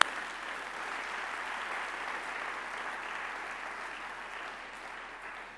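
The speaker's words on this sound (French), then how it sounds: "Oh, acclame pour Daniel." A church congregation applauds during a sermon with steady, dense clapping that slowly fades toward the end. It is heard from a moderate distance, with no cheering standing out.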